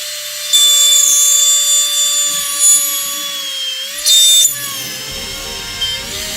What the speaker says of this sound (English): So this is high-speed rotary carving. I am using a relatively high-speed bit here.